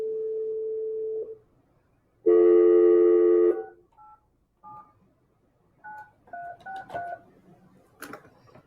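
A telephone dials a cell phone: a steady dial tone, then a louder chord, followed by a series of short keypad touch tones in an uneven sequence, clear and close with no talk.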